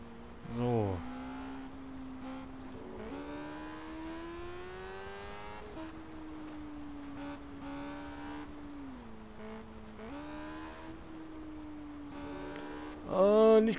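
Car engine from the Test Drive Unlimited racing game: a steady, buzzing drone that rises and dips in pitch as the car accelerates and slows, with short louder bursts near the start and end.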